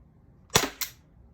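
An Umarex T4E Glock 17 Gen 5 fires nylon balls, one sharp close pop followed a quarter second later by a second, softer crack, alone against quiet room noise.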